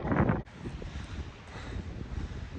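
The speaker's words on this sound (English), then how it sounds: "now we're going back against the wind for mile 3" Wind buffeting a microphone during an outdoor 5K run on a cold, windy day, a loud low rumbling gust at first, then steadier, softer wind noise with faint low thumps.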